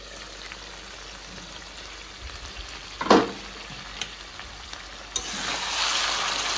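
Meat frying in a karahi in a home kitchen gives a steady low sizzle, broken by a sharp clank of a utensil near the middle, then a hiss that swells louder toward the end.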